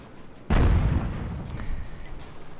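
A single loud tank gun shot bursts out in World of Tanks, a heavy boom with a rolling tail that decays over two seconds, with faint mechanical tones behind it.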